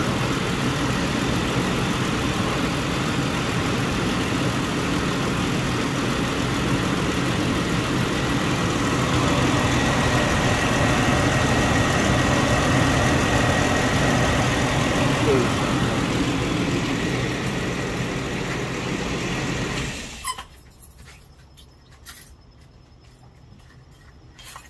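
A car engine idles steadily with a loud whirring clutch fan for about twenty seconds, then the noise drops away abruptly, leaving faint background sound.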